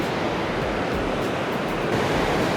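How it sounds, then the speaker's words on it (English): Loud, steady roar of Niagara River rapids crashing on big boulders nearby, a continuous broadband wash with no voices. "you can really feel the thunder of that water hitting these big boulders"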